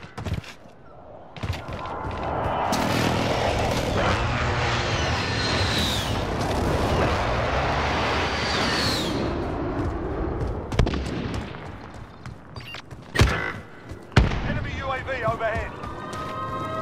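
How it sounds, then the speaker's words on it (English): Precision airstrike explosions in Call of Duty: Modern Warfare land as sharp, booming blasts, with several loud bursts near the end over a dense wash of gunfire and battle noise, while voices talk throughout. "Be advised, friendly precision airstrike inbound."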